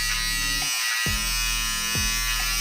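Electric hair clippers buzz steadily while cutting a fade at 3 millimetres, a close, continuous hum broken by a few brief dips where the blade shifts against the hair.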